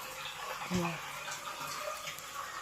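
A brand-new Samsung washing machine drains its water in a steady, close rushing wash, with a person speaking briefly over it.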